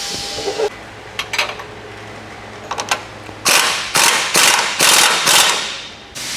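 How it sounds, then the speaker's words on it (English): A ratchet torques down a new nylon nut during a Toyota 4Runner differential drop install, sounding as clusters of sharp metallic clicks that start sparse and turn into louder, denser bursts, up close with no speech. "We can go ahead and torque that down."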